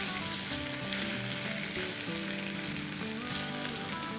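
Chicken pieces fry in a pot with spices for biryani, giving a steady, close, loud sizzle with light stirring scrapes and no voices.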